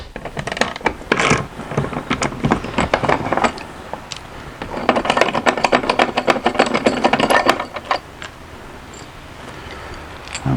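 A ratcheting T50 driver clicks rapidly in repeated bursts while removing the door striker screws on a 1988 Ford Thunderbird Turbo Coupe, close and loud with brief pauses between runs of clicks.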